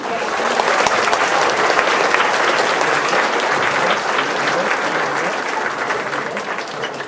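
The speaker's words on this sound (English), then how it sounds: "One more round of applause for Jazz Band." A school audience applauding a middle school jazz band, sustained, loud and dense clapping from a crowd that runs throughout, easing slightly toward the end.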